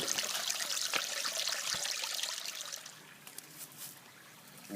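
Fresh, clean water trickles and splashes in a steady close stream that softens toward the end, with no voices.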